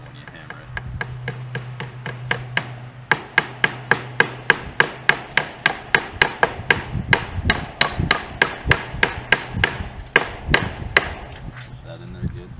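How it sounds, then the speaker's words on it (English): A hammer drives a nail to mount a wooden birdhouse, striking in a fast, even series of about forty sharp, ringing blows close by before stopping, with no talk. "So you take your nail and your hammer."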